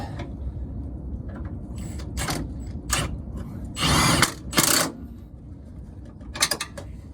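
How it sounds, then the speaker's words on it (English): A hand ratchet tightens a rear shock absorber nut on a 2008-2014 Ford F-150, giving a few close bursts of ratcheting clicks separated by pauses against a low background rumble. "I like to run it with a hand ratchet rather than an impact after the fact"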